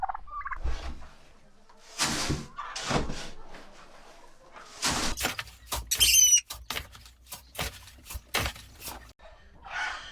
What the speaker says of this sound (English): Turkeys versus dogs.